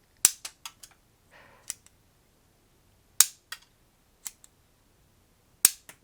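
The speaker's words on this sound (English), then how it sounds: "So you pull the stock back to fire this one." A mini Nerf blaster fired by pulling back its stock gives a series of sharp, dry snapping clicks, several in quick clusters with gaps between, plus a brief soft rustle early on.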